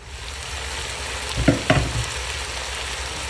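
String beans and mushrooms fry in a pan with a continuous sizzle, broken midway by a couple of brief stirring scrapes before the steady frying resumes.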